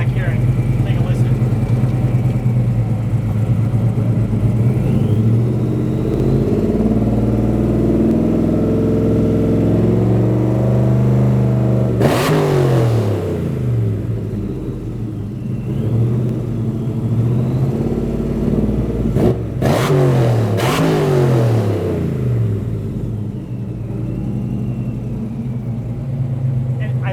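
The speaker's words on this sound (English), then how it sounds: "I love the supercharger whine." A supercharged 1966 Chevy Chevelle restomod engine idles with a deep, steady rumble, with a few sharp revs and a thin supercharger whine on top, close and loud, with people talking over it.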